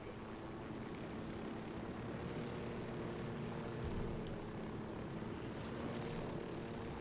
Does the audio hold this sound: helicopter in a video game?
yes